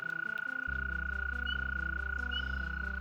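A wounded, recovering toad gives a steady, sustained low croaking drone close by, continuous over a constant high background tone, with no talking.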